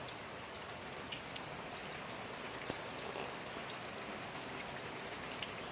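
Steady rain falls on a morning, a dense even hiss with scattered drop ticks, fairly loud and continuous throughout with no voices.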